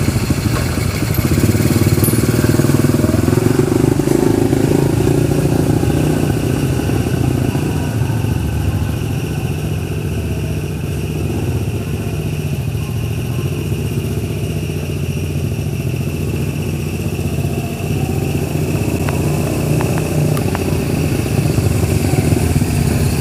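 A motorcycle engine runs steadily and loudly at close range for the whole stretch, with no spoken voices over it.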